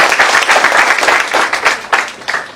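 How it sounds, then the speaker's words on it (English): Sustained, dense applause from a large audience at a youth conference in Juba, loud and close, with many hands clapping steadily before the sound begins to thin out. "So let's give him a hand of Claudia Jama. Let's clap for him."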